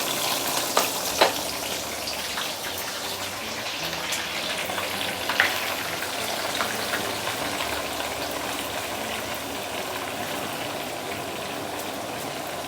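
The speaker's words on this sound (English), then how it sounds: "deep fry the roast pork" Roast pork deep-fries in hot oil, a dense, steady bubbling sizzle heard up close, with a few sharp pops and spatters early on and no voices.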